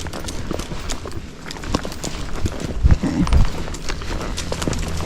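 Hooves of a Rocky Mountain gaited horse under a rider, steady uneven clip-clop footfalls at moderate distance over low outdoor noise, with a couple of heavier thuds midway.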